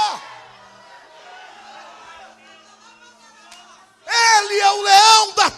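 A church congregation bursts into loud shouting and cheering, a dense crowd roar with whoops lasting over a second, following a stretch of a preacher's amplified talk.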